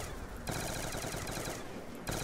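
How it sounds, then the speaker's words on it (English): Sniper rifle gunfire in Call of Duty Black Ops 2 Zombies, a loud, dense burst of shots and game noise that runs almost unbroken through the whole moment, with brief dips around each volley and no talking. "I am one-shotting zombies on this round with the sniper"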